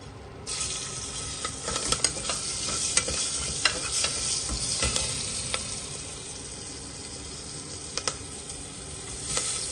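Onions and green chilies fry in a pan with biryani spices for egg biryani, a steady close sizzle from the moment they drop in, broken by occasional clinks and scrapes of stirring; no talking.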